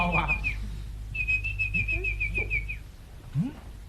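A girl on a Yue opera stage imitates a bird call with a bright, whistled chirp: a short trill, a pause, then a longer run of quick chirps at an even pace, followed by a faint sliding note.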